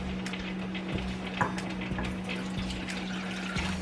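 Water streams steadily into a container while brine for honey-pickled radishes is prepared in a home kitchen, a soft continuous pour over a low, even hum.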